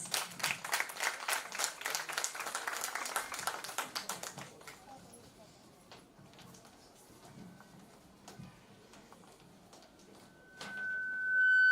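Audience clapping at a school science event, a dense burst of applause that fades out after about four seconds, leaving quiet room noise.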